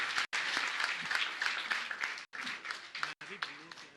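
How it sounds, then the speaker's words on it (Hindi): Audience applause at a religious question-and-answer gathering as a guest is honored with a memento: continuous clapping from a seated crowd, fairly faint and distant, with a few brief dropouts. "आप तालियों का अवदान देकर करके सम्मान कर दीजिए बंधु।"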